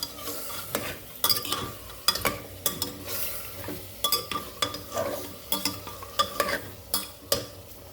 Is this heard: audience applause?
no